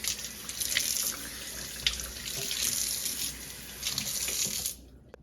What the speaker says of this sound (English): It's good if you have a big kitchen sink that has a nice tall faucet.